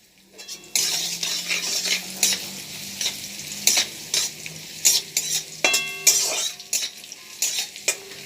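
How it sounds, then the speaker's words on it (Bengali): Cashews and raisins frying in ghee for gajar halwa, a soft sizzle broken by repeated scraping and clinking of a spoon stirring against the pan, with no talking. "কাজু আর কিশমিশটা আমি একটু ভেজে নিচ্ছি।"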